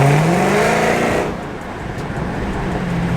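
A car's exhaust roars loud and close in track mode with its mid mufflers removed, a dense steady rumble that drops off halfway through to a lower, rougher drone.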